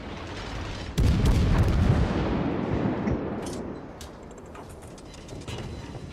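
Warship guns boom in World of Warships as a salvo is fired at the destroyer Coing, one loud heavy blast followed by a long rumbling decay and a few fainter distant reports.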